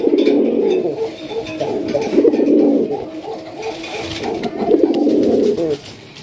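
Domestic pigeons of the Raj Golla breed coo loudly and persistently at close range, with overlapping deep throaty calls rolling in repeated bursts and barely any pause between them.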